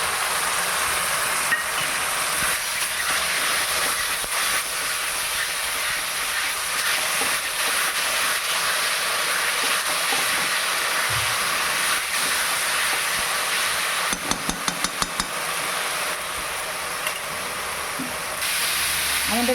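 Spices tipped into a pan of frying potatoes and onions set off a loud, steady hiss of sizzling oil that runs throughout, with a few brief clicks of stirring near the end and no talk.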